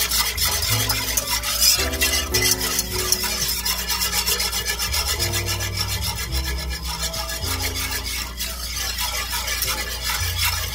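A small whisk works flour into turkey gravy in a pan, producing continuous rapid scraping and rubbing strokes under background music.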